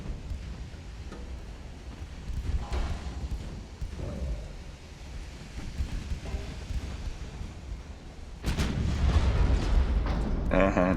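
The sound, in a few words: naval artillery salvos firing in the video game Ultimate Admiral: Dreadnoughts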